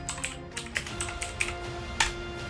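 Light, irregular clicks of fingers typing on a computer keyboard, close and fairly soft, a dozen or so keystrokes over a faint electrical hum.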